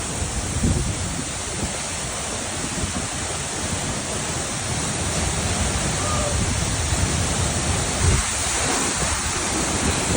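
Roaring rush of the Tiger Waterfall pouring with strong water pressure, heard close by as a steady broadband wash that stays loud and unbroken throughout, with gusts of wind buffeting the microphone.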